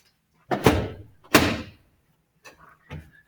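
A back door bangs twice in quick succession, loud and close, with heavy thuds, then a couple of fainter clunks of the latch and frame settling a second later.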